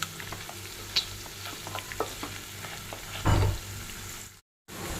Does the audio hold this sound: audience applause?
no